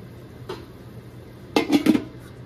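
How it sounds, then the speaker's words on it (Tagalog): A metal lid goes back onto a cooking pot of simmering chayote chop suey: one soft clink, then a short cluster of louder rattling clanks as the lid settles, heard close with no talking. "lagay ko ulit yung takip"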